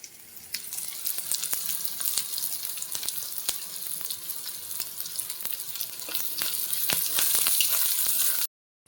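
Onions sizzle in hot oil as ginger garlic paste goes in for a tamarind leaf chicken curry, making a dense continuous crackle close by with sharp pops and stirring clicks, before cutting out abruptly near the end.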